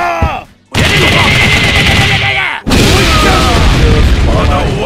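Ralph's Vulcan Punch combo in the fighting game KOF XV: loud, dense bursts of rapid punching impacts and booming hit effects fill the clip, broken by two brief dips.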